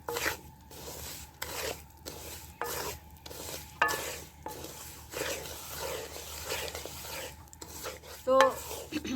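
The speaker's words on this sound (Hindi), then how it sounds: "इसको चम्मच के साथ हिलाते रहना है, चम्मच नहीं छोड़ना, नहीं तो चीनी नीचे लग जाएगी" A spoon stirs suji kheer in a pot with soft repeated scraping and rubbing strokes in a steady rhythm, fairly quiet, with a faint sizzle underneath.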